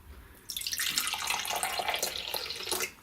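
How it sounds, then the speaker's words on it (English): Pineapple juice pours into homemade kombucha, a steady close splashing stream that starts abruptly and runs for about two seconds before tapering off. "So I'm putting some pineapple juice in."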